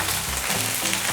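Onions cooking in a pan for a simple homemade dinner, a steady broadband sizzle with low bubbling underneath, close and continuous with no voices.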